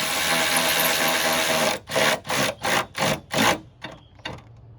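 Bursts of a power tool or ratchet driving bolts on a GM minivan radiator: a continuous whir, then five short even pulses and a final brief burst, close by.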